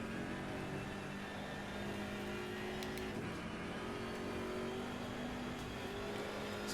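Race car engine in Assetto Corsa Competizione at Tsukuba, a continuous droning engine note holding steady with slight pitch shifts, loud and close with no talk.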